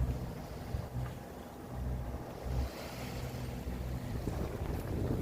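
A sailboat motors under engine power on open water in mild wind, a low steady engine drone with wind buffeting the microphone and a faint wash of waves throughout.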